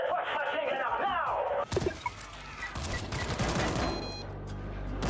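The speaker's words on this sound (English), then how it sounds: "Get the first machine gun up now!" Machine gun fire breaks out in the video game World War Z, in a museum setting, as rapid dense bursts of shots that follow a shouting voice, with talk mixed in.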